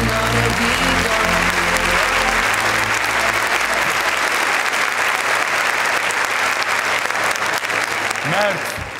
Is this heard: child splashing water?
no